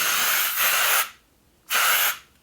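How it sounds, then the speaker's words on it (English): An aerosol face mist spray can sprays two separate bursts, each a close, loud hiss lasting about half a second, with a brief silent pause between them and no speech. "Let's see what this spray is like first."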